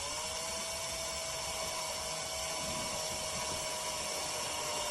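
A VIWKO 20V cordless drill-driver set to torque 1 whines steadily at high pitch while driving a small pointed screw, close and continuous with no voices.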